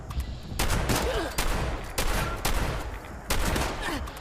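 Combat shotgun fire in Fallout 76: a series of heavy, booming blasts about every half second to second, each with a long rumbling tail, loud and close amid battle noise.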